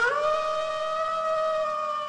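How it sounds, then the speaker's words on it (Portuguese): A howl sound effect plays during a live stream of retro games, one long sustained canine-like wail that holds a steady pitch and is loud and clear with no talk over it. "O uivo do Paladini ficou perfeito"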